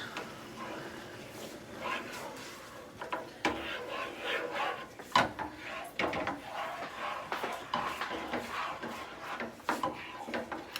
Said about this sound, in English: I'm gonna take my spatula and I'm going to start to stir around those eggs